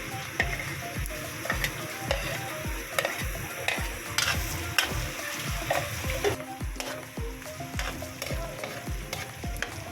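Onions sautéing in a pan for pork pancit bihon, with steady close sizzling and frying hiss under repeated rhythmic scrapes and stirs of a utensil against the pan.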